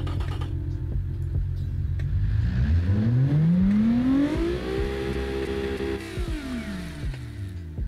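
A rear-wheel-drive Honda Civic EG6 fitted with a swapped V6 revs up from idle, the engine note climbing smoothly to a high sustained rev, holding, then falling back to idle, loud and close with no talk.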